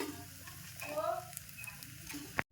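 Food sizzles steadily in a hot oiled pan, a close continuous frying hiss with a few soft clinks and a sharp tap at the end.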